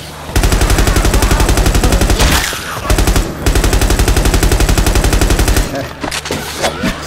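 Rifle fire in Left 4 Dead 2 comes as loud, rapid automatic bursts with a very fast, even rhythm. A short gap falls in the middle before a longer burst, and a brief voice can be heard near the end.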